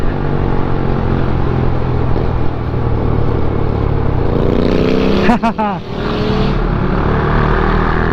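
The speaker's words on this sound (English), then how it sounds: "Let's see what Phil's bike sounds like." Motorcycle riding through a tunnel on a group ride: a loud, close engine drone echoing off the walls, with a sharp revving swell in the middle before settling back to a steady hum.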